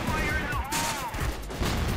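Rapid bursts of gunfire from the first-person shooter game CrossFire crackle continuously at close range, with a player talking over the shots.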